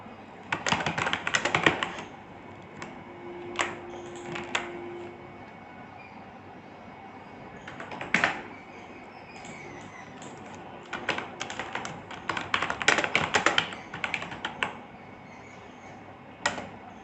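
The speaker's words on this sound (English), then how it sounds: "if you want to type something" Bursts of quick clicking keystrokes on a computer keyboard, typed in short irregular runs separated by pauses, fairly close and moderately quiet with no talking.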